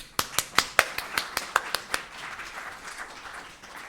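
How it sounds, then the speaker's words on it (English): Applause from an audience at a film-related event: about ten sharp, evenly spaced claps ring out clearly near the microphone, then fade into softer, scattered clapping. "For now, another big round of applause for them all."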